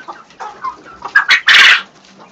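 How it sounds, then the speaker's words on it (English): Rooster among quail on a farm gives a rising cluck and a short, loud crowing call at close range, preceded by softer clucking sounds. "he's been crowing"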